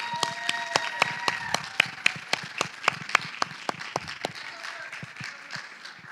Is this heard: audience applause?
yes